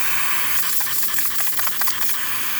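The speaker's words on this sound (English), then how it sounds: "As you can see, it's a nice steady steam coming out of the machine." A Rancilio espresso machine's steam wand hisses steadily and loudly nearby, with bubbling, fluttering gurgles rising and falling through the middle as the jet works, and no one speaking.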